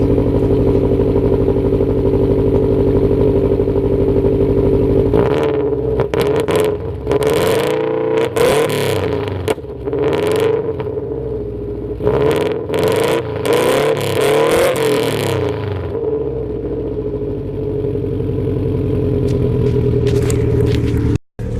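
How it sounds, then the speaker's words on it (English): A 2005 Subaru WRX engine idles near and loud, then goes through a series of sharp rev bursts in the middle before settling back to a steady idle and cutting off at the end. "Let me do one startup for you guys and a little revving."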